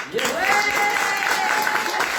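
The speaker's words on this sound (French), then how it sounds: "J'aimerais qu'on applaudisse à nouveau Salima." Audience applause after an interview at a Lyon business event, a steady dense clapping from a room full of people lasting the whole stretch, with a faint tone running through it.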